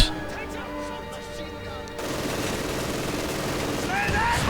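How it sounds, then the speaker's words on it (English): Dense battle noise from the World War II strategy game Company of Heroes 2, with mortar impacts and sustained gunfire forming a continuous loud rumble, plus a few whistling tones near the end. "Mortar attack as well."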